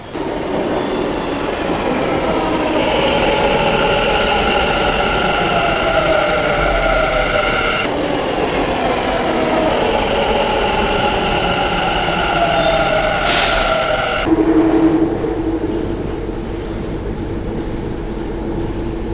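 A metro train rolls through Garudacharpalya metro station in Bangalore up close, a loud continuous rumble with whining tonal hums and a brief sharp hiss near the end.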